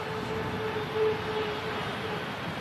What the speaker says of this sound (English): British Airways A320neo.